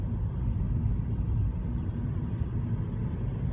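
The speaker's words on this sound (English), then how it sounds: "Now I can hear the diesel quite a lot in the diesel engine in the lower gears." A Kia Rio Eco's diesel engine rumbles steadily in a lower gear, a low, continuous drone heard from inside the moving car with no talk.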